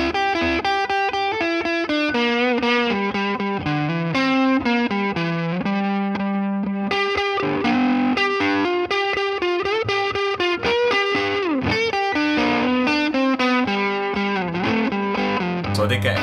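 A distorted electric guitar solo from a song plays loud and continuous, quick runs of notes weaving over a steady backing with no pauses.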